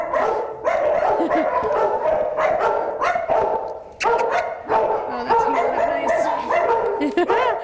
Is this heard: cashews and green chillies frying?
no